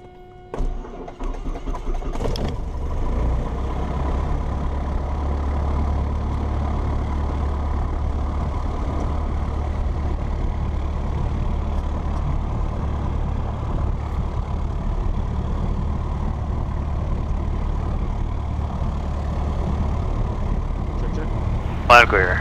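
Aircraft piston engine running at a steady idle after start, a continuous low rumble sustained throughout with a brief clunk near the beginning and another toward the end, heard alone with no talk.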